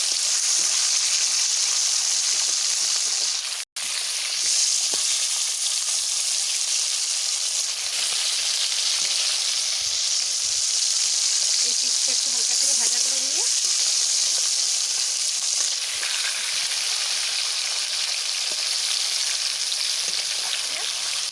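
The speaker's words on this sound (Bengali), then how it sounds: "মাছ হালকা করে ভাজা করব" Fish frying in oil in a pan gives a steady, close sizzling hiss that runs without a break, with only faint low background sounds beneath it.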